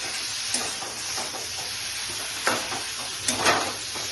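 Okra added to a hot pan sizzles steadily as it fries for a vegetarian bhindi paneer curry, a close, continuous hiss with a few brief clatters from stirring.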